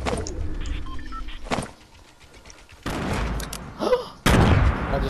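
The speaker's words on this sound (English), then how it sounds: "Fucking threw a random grenade and got him" A grenade in Fortnite goes off with a sharp, loud burst near the end, after a quieter stretch broken by scattered gunshots and blasts.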